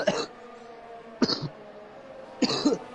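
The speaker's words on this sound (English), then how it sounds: "So I've still got a bit of a tickly cough" Three separate dry coughs, evenly spaced about a second apart, loud and close to the microphone from someone with a tickly throat, with no talking in between.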